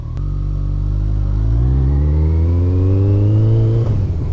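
A Kawasaki ZX-14R (ZZR1400) motorcycle engine rises smoothly in pitch as the bike accelerates under a rider, loud and close, then eases off at the end.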